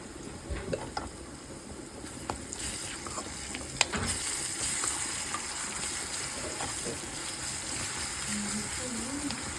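Garlic paste frying in hot oil gives a continuous dense sizzle and crackle, steady and fairly close, with occasional clinks and stirring scrapes through it.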